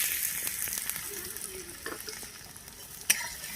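Chopped onion frying in a pan for a soybean and potato curry, a steady hissing sizzle with scattered stirring taps and one sharp clink near the end.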